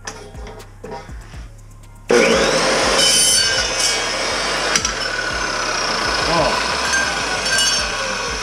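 RIDGID 614 dry cut saw slicing through metal pieces: quiet handling clunks, then a loud sustained cutting whine and grind that continues to the end.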